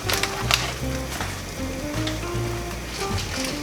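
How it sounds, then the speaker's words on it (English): Water at a rolling boil in a pot, cooking spaghetti or linguine on the stove for a brie cheese pasta, a steady close bubbling and sizzling hiss with no voices. "Now that our water is boiling, we're gonna go ahead and add our spaghetti or linguine."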